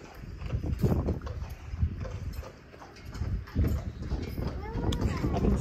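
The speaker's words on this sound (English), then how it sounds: "eventually we heard hooves coming around the corner" Horse hooves clip-clop on a road as a carriage is pulled along on a wet, windy day, rhythmic steps fairly close amid outdoor rumble and people talking nearby.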